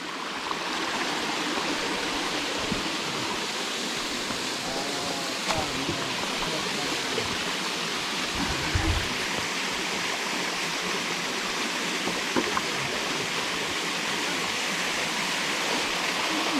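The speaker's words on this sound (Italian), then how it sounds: "Siamo arrivati alla cascatissima." A waterfall in Montiferru, Sardinia, reached on a mountain bike outing, gives a steady loud rushing roar that fills the whole stretch, with a few faint voices and brief knocks under the water noise.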